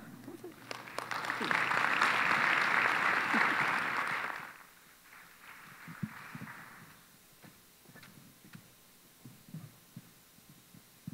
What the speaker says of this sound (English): Give yourself a round of applause for sticking all the way through.